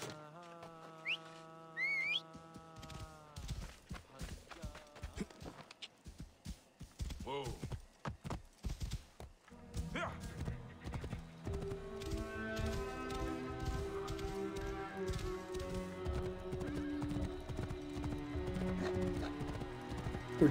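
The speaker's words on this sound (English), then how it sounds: "Time to call the horsey." A horse in Assassin's Creed Origins whinnies, then its hooves clip-clop in a quick, steady galloping rhythm over game music, with someone talking at times.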